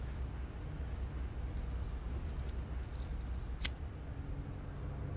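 Keys jangle faintly against a low background rumble, a few soft metallic clinks scattered through the middle with one brighter jingle near the end.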